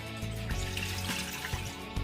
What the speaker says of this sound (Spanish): Le vamos a agregar los 400 mililitros de agua.